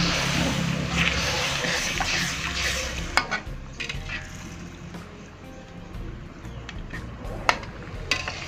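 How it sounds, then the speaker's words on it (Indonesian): A spoon stirs coconut milk into a fish stir-fry in a pan, soft wet sloshing and gentle sizzling with a few sharp clinks against the pan, heard close. "sekarang kita tambahkan santannya ataupun pati santannya. Kita aduk kembali."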